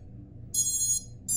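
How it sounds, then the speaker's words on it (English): Two bursts of high electronic startup beeping from drone ESCs, a longer tone sequence then a second starting, over a low steady hum. "you can hear that second set of beeps, and that's telling you that the ESCs are communicating"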